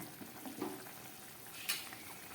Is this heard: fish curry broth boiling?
yes